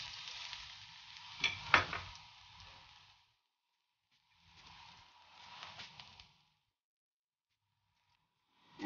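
Garlic dropped into a hot wok for spaghetti sauce, crackling in two separate bursts of busy sizzle that die away into silence between them.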